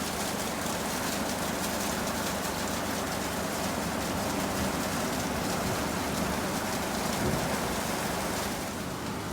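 Steady rain falls continuously, a dense even hiss of drops with no pauses, heard close and without any voices.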